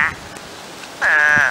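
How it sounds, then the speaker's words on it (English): Spadefoot toads calling from a brushy backyard, with one loud, sustained nasal trill lasting about half a second near the end, preceded by a faint, brief call at the start. "I can hear the toads."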